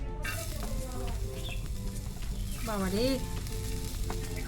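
Onions dry-frying in a pan without oil for chicken, a continuous close sizzle with some stirring scrapes and no talking.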